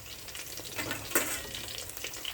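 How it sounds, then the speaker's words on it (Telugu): Chicken lollipops deep-fry in hot oil with a dense, steady bubbling sizzle, close and fairly loud, with a brief sharper pop near the middle. "చూసారు కదా అండి ఎలా రెడ్గా ఫ్రై అయ్యాయో."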